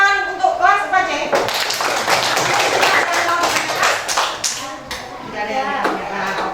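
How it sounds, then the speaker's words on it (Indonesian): A fourth-grade class at an Indonesian primary school applauding, a burst of mixed clapping and tapping from many children that swells and fades under a teacher's voice talking before and after. "Tepuk tangan untuk kelas 4 ya."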